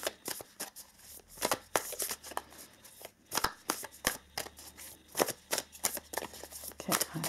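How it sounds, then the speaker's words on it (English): Cards from a Nightmare Before Christmas tarot deck are shuffled in quick repeated riffling bursts, close and crisp, with a few soft murmurs in the background. "I feel like that is good shuffling"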